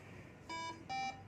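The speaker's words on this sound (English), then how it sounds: "this is low priority alarm" An ECMO machine's low-priority alarm sounds as two sustained electronic tones, each with a bright steady pitch and harmonics, separated by a short gap against a quiet hospital room hum.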